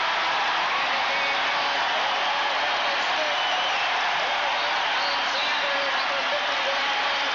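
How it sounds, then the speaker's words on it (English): A basketball crowd at the 1986 Metro Conference tournament championship between Louisville and Memphis State roars in a dense, loud, sustained wall of cheering and applause after a Cardinals turnover, steady throughout with no break. "Now that Cardinal contingency has got something to cheer about."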